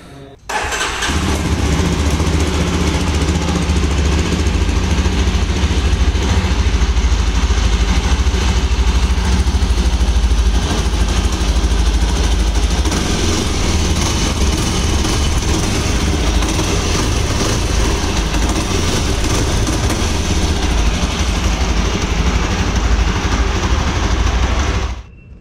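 Yezdi Adventure motorcycle engine running steadily at idle, a loud, close, continuous low rumble that holds for the whole stretch with no voices over it.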